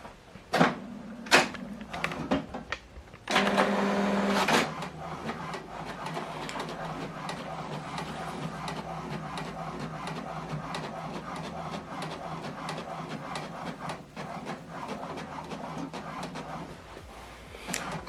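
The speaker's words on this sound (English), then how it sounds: "once it's telling us the first set of documents is printing" An HP printer running a two-sided print job, with a few sharp clicks and a louder feed burst, then a steady mechanical whir and rattle of paper moving through the rollers for most of the stretch.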